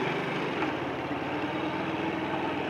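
A motorbike engine runs steadily through a bend at moderate revs during a riding lesson. The drone is close and continuous, with a low rumble and no talk over it.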